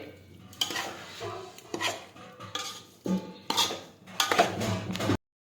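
A spoon scrapes and clinks against a pan while sukhi bhaji vegetables are turned over, in uneven bursts of stirring separated by short pauses, with a faint sizzle underneath.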